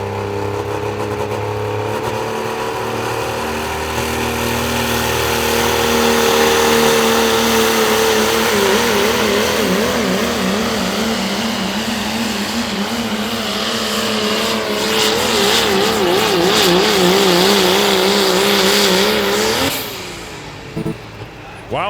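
Pro stock diesel truck roaring through a truck pull, a loud sustained engine drone that climbs and wavers in pitch for about twenty seconds before cutting off, with crowd and announcer noise underneath.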